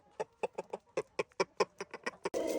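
Hens on a small farm cluck in a quick, irregular series of short, close calls, about a dozen in a row, before a sudden burst of broadband rustling noise at the end.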